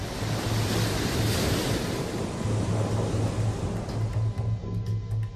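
Atlantic storm surge from Superstorm Sandy hitting the New York City and Jersey Shore coast: a steady, loud roar of crashing surf and wind noise that fills the whole stretch, with no voices.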